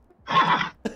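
A single short horse neigh in a video game rises and falls for about half a second, followed by a brief faint snort or whinny fragment, close with no talk.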